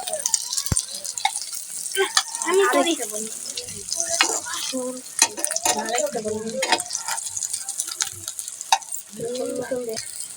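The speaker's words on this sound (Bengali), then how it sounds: "দুটো ডিম এখানে পেঁয়াজ দিয়ে ভাজা হবে" Two duck eggs sizzle in a pan with onion, crackling softly and unevenly close by, while a person talks over the frying throughout.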